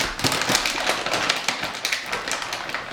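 Dried mushrooms being ground in a mortar for seitan, producing a close, steady run of sharp cracking taps and crunches with no talking.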